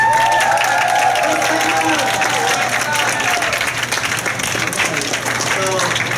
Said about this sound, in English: let us stand up and give Minka a big round of applause